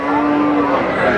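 Cattle at a livestock market, among calves for sale, give a long, loud, sustained moo that fills the space, with crowd murmur faintly underneath.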